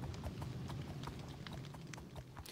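Footsteps of a donkey walking in Minecraft, a quick, even series of soft clip-clop hoof steps repeating steadily and fairly quietly, with no talking.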